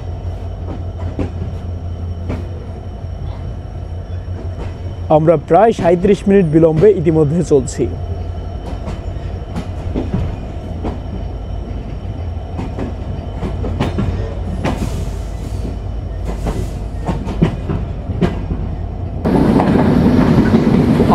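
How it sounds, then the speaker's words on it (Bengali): Simanta Express intercity train pulling away from Joypurhat station, continuous wheel rumble and clatter with a burst of squealing metal, someone talking over it, and a louder gust of noise near the end. "আন্তনগর আপ সীমান্ত এক্সপ্রেস জয়পুরহাট রেলওয়ে স্টেশনে তার নির্ধারিত যাত্রাবিরতি শেষ করে আবারও চলতে শুরু করলো"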